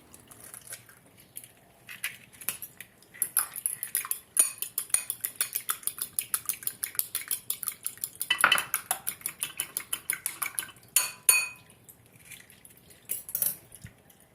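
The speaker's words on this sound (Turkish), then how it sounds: "Bir tabağa da bir tane yumurtamı kırıyorum ve iyice çırpıyorum" A single cracked egg is whisked briskly on a plate, with a fast run of close, bright metallic taps against the dish after a few scattered clinks, pausing briefly near the end.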